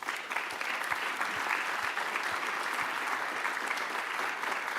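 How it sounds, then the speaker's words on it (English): An audience at a journalism lecture applauds steadily and fairly loudly, a dense, even clatter of many hands clapping together that holds at full strength for about five seconds without fading. "Let's literally applaud that right now"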